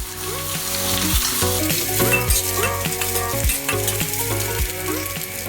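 Egg and chopped greens stir-fry for pad see ew in a hot pan, a loud steady sizzle broken by rhythmic scraping and clanking of a utensil tossing the food, close and without talk.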